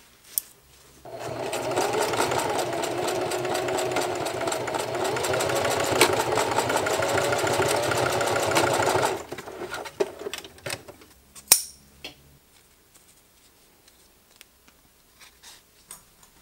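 A Singer HD sewing machine stitches a homemade bottle carrier in one long steady run of rapid mechanical clatter, then stops, leaving scattered clicks and handling noises.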